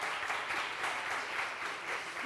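A large audience at a talk claps in steady, dense applause that holds level throughout, with no voices over it.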